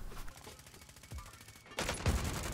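Gunfire in a shooter video game crackles as a rapid, faint burst of shots, followed by a louder sharp impact near the end.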